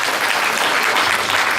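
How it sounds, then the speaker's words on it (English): An audience at a Shirdi Sai community satsang gives warm applause to a guest speaker, loud steady clapping from many hands, continuous and close. "please give a warm applause to Dr. Anil Kumar, Professor Anil,"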